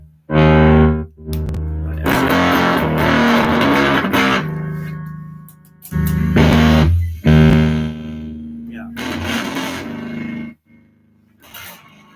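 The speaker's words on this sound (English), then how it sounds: "Let me get more distortion here for me." An electric guitar played through heavy distortion while working through a couple of songs, loud sustained chords and runs in bursts separated by brief silences.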